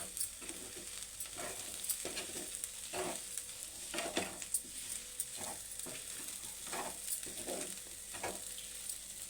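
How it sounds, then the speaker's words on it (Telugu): Sweet corn snack mixture being stirred with salt in a pan, giving a steady soft sizzle broken by repeated scraping strokes of a spoon, close and fairly quiet, with no talking. "వేసుకొని కలుపుకోవాలి."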